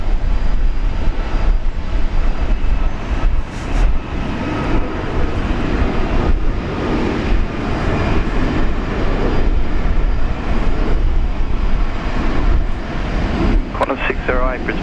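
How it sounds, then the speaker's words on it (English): A Boeing 737 MAX 8 departing Brisbane for Bali rumbles loudly and unevenly, its engine roar mixed with other airport noise and speech over the top, with a brief squealing burst near the end. "heading off to Bali, the Dempster Bali, flight 158. That's a 737 MAX 8"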